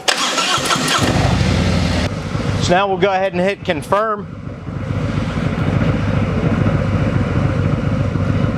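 Harley-Davidson motorcycle engine cranks and fires up during a diagnostic test, then settles into a steady, loud idle rumble; someone talks briefly before it starts.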